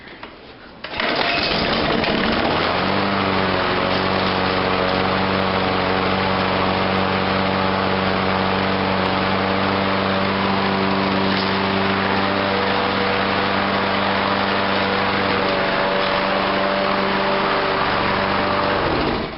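Small lawn mower engine left unused for two years starts on the first pull after a brief cranking rustle, then runs at a steady, loud idle hum that continues alone for the rest of the time.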